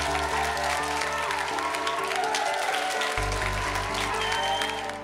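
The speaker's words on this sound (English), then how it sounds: "Can we please have a massive round of applause for" A crowd applauds a contestant being announced in fourth place at a beauty pageant. The clapping sits under loud, sustained music with a deep bass note that shifts partway through.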